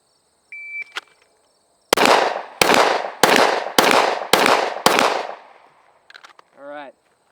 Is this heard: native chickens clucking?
no